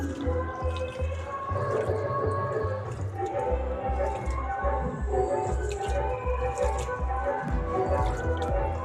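Rice grains being washed in water by hand in a home kitchen, a steady wet squishing and dripping that keeps going throughout, close and moderately loud, with a low rhythmic hum underneath.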